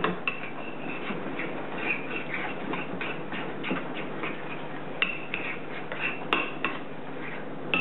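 Crab cake mixture of salt, Old Bay seafood seasoning and Worcestershire sauce being stirred in a bowl: a spoon clicks and taps against the sides in a quick, uneven rhythm for several seconds, close by and without talk.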